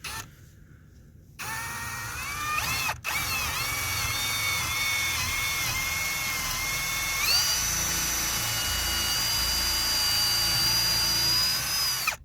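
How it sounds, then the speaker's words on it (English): A power drill whines steadily after a brief start and stop, its pitch rising slightly as it bores a hole in wood matching a 2x4's thickness, loud and close with no speech. "Make sure you drill a slightly crooked hole"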